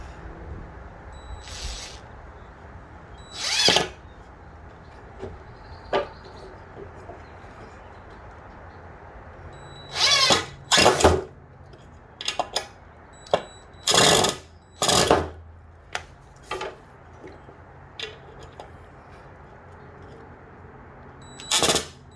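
A power drill driving screws into a wooden garage workbench, heard as about ten short, loud whirring bursts of uneven length spread irregularly over quiet gaps.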